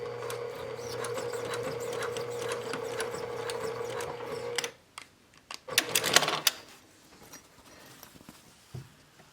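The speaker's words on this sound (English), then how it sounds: "And then I'm going to keep sewing." Sewing machine stitching a tab onto a fabric cosmetic bag, a steady fast mechanical whir that stops partway through, followed by a few clicks and handling sounds.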